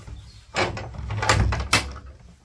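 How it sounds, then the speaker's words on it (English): A door in a traditional mud-walled room in a Moroccan guesthouse near the Todra Gorge is opened, giving a loud cluster of creaks, knocks and rattling over a few seconds. "Open the door so we can see it."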